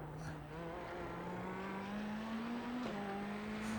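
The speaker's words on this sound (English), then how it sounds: "And I'm taking the car deeper on the brakes." GT3 race car braking hard into a corner at Knockhill circuit, its engine note holding a steady loud drone that shifts pitch as it slows, with a brief tyre squeal partway through.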